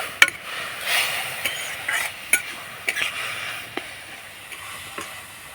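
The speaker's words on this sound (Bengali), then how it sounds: "এবার নাড়াচাড়া করে আমি কুটটা তৈরি করে নেব" A spoon stirs a jaggery filling for pineapple pitha in a pan, making repeated scraping strokes and light taps over a soft sizzle, close and steady, with no voices.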